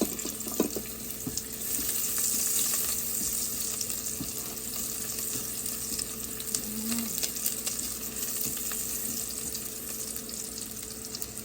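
Garlic with ginger sautéing in a pan for chicken tinola, a steady close sizzle of frying with a few light scrapes and clinks of stirring, no voices.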